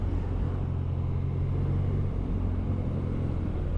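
BMW R 12 motorcycle ridden on an open road, a continuous low engine rumble with steady wind noise, close and unchanging throughout, no talking.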